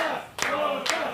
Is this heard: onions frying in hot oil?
no